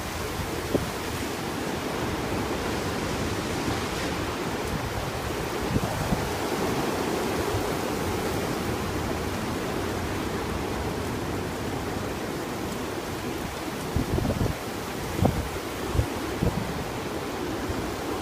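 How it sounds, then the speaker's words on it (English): Strong outdoor wind roars as a loud, broad, continuous rush, with gusts and buffeting thumps on the microphone toward the end. "The wind just picked up to like double its speed, dude."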